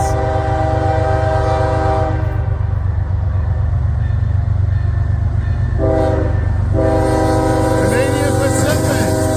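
A Canadian Pacific freight train with Kansas City Southern power rumbles past close by, loud and steady. A sustained chord-like horn blast sounds over the rolling wheels and rail noise.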